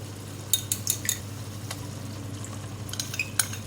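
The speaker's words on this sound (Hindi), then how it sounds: "खूब भुनाई करनी है दही के साथ" Spiced masala and whisked yogurt being stirred and fried in a pan for aloo yakhni pulao, with a few scattered clinks and scrapes of a metal spoon against the pan over a low, steady background.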